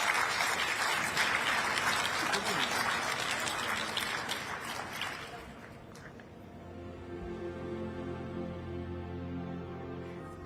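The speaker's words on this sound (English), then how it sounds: "please do give our wonderful panelists a big round of applause" Audience applause for panelists at a COP28 global cooling pledge discussion, a dense crowd clapping loudly for about six seconds, then thinning out to scattered claps under low room noise and faint murmur.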